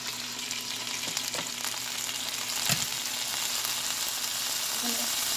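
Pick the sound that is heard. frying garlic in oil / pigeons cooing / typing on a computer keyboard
frying garlic in oil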